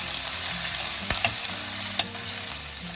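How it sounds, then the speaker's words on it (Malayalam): Chopped coconut pieces sautéed in a pan, a steady loud frying hiss broken by a few sharp spoon clacks against the metal, close up with no one talking. "നമുക്ക് ഈ തേങ്ങാക്കൊത്ത് നല്ലവണ്ണം വഴറ്റിയെടുക്കണം."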